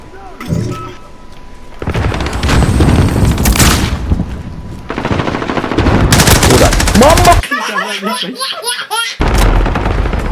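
Bursts of automatic gunfire from the video game Call of Duty: Modern Warfare, loud and close, mixed with laughter and excited voices of players talking over the shooting.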